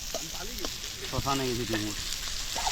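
Onion fries in a little oil during a cooking session with friends, a soft steady sizzle running underneath while voices talk and exclaim over it close by.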